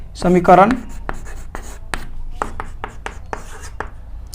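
Chalk or marker strokes on a classroom board as a math teacher writes an equation, a loud burst of scratchy scribbling followed by a series of short, evenly spaced tapping strokes, close and clear with no talk.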